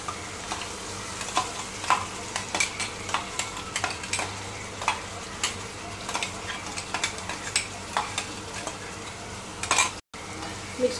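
Tomato paste and spices being stirred in a pan for chicken nihari, repeated scraping and tapping of a spoon against the pot over a continuous sizzle, loud and close.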